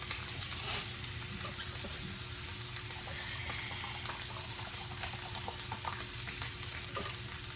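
Bacon fries in a non-Teflon pan with water added, giving a steady, dense crackling sizzle from close by that holds at an even level throughout, with no talk.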